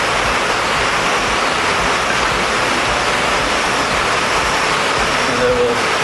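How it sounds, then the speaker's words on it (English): A camp stove of a new design burns outdoors in windy conditions, giving a steady, loud, unbroken roar of flame and air with no pauses. "See my stove burning away."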